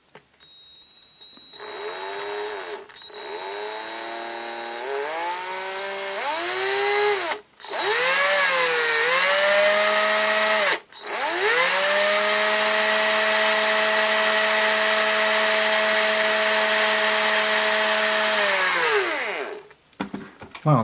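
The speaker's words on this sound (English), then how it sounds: "I'll just have to take this slowly and see if I can drill it in" A power drill whirs in several bursts, drilling slowly into the plastic neck post of a vintage Micronauts toy, its pitch climbing as it spins up, then a long steady high whine before it stops abruptly.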